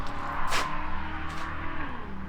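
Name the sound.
car racing past outside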